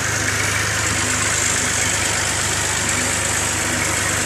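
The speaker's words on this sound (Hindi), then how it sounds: "अभी ट्रैक्टर अंदर खड़ा कर लूँ" A parked tractor engine idles loudly close by, a steady low rumble and vibration holding constant throughout.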